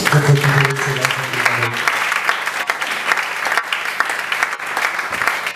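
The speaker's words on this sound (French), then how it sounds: "Est-ce qu'on peut acclamer ça?" A church congregation claps together in a sustained burst of applause. It is loud and near, and a voice trails off at the very start before the clapping takes over.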